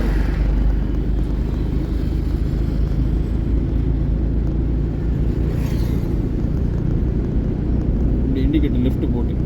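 A learner drives a car during a driving lesson and shifts up into fourth gear, the engine a steady low rumble with road noise throughout, heard from inside the cabin with no clear gear-change sound standing out.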